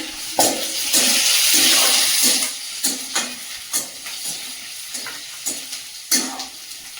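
Garlic frying in a pan in a home kitchen, ahead of crabs going into the same pan: a steady close sizzle with repeated scraping stir strokes over it and no talk.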